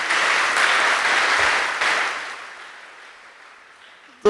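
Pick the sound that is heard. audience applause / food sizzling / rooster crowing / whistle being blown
audience applause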